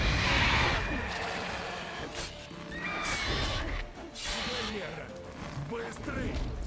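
Horse whinnying in the video game The Witcher 3: Wild Hunt, a neigh rising over busy game sounds and clattering, with someone talking over it at times.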